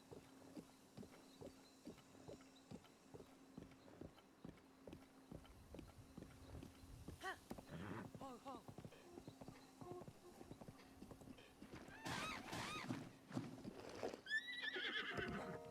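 Horse hooves clip-clop in a steady rhythm from the open-world game Zelda: Breath of the Wild, followed by a couple of bright neighs and whinnies near the end over quiet background music.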